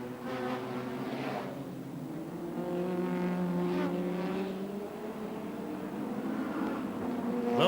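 Ford Sierra and BMW M3 race cars howl around the track at the 1987 Nissan Mobil 500, engines rising and falling in pitch as they pass at a distance.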